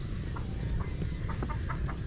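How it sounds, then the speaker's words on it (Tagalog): Chickens cluck in short, faint bursts from a penned area at a rural fishpond village in Sapang Bayan, Calumpit, Bulacan, heard over steady low outdoor rumble with ducks kept nearby. "Ayun, narinig yung manok."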